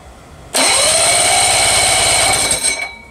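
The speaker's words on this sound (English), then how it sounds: "Starter works after beating on it with a hammer" An electric starter motor on a 1964 Evinrude 40hp outboard suddenly whirs and cranks loudly for about two seconds, a steady high whine with rapid chugging underneath, then winds down.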